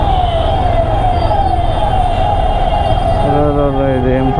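Sirens from an assembly speaker's convoy of ten to fifteen cars wail continuously through a traffic jam, rising and falling loudly over rumbling engines, with a second siren tone joining toward the end.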